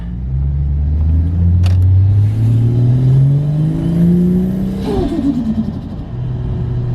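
A boosted car engine pulls up through a couple of gears from close inside, its rumbling tone climbing steadily. A brief shift dip comes partway through before it climbs again, with no talking.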